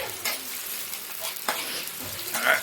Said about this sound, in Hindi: कुछ प्याज और मूली कटिंग करके डाल दिया जा रहा है